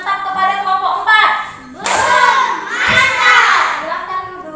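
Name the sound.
class clapping for a group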